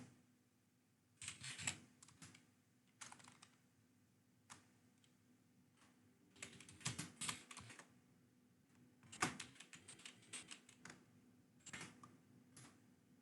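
Quiet bursts of keystrokes on a computer keyboard, clustered in short irregular runs with pauses between, close and soft against a low background hum.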